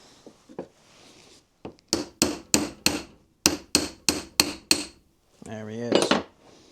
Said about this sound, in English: it should now just have to tap this threaded rod up through, and it should push that plug out